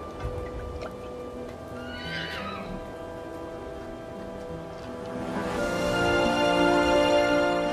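Horses on a desert journey whinny: first a brief, distant neigh, then a louder, longer whinny near the end over a soft background hiss.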